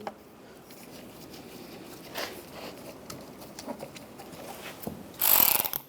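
Screws being driven in to secure a tail light on a 2007-2013 Mini Cooper: faint, steady ratcheting clicks close by, ending in a short, louder whirring burst.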